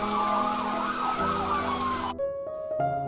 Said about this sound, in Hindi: वहाँ पे एम्बुलेंस की आवाज़ थी, पुलिस की सायरन की आवाज़ थी।